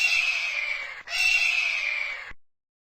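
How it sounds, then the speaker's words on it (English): An eagle gives a long, high, piercing scream, briefly broken near the middle and then resumed before cutting off, heard alone. "Eagle."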